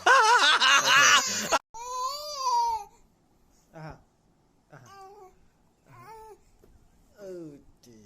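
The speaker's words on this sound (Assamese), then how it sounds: "এইটো কান্দি আছে, কিন্তু কান্দি আছে বাহিৰত যাবৰ কাৰণে" A young child wails loudly at first, then carries on in shorter whimpering, fussing cries broken by brief pauses.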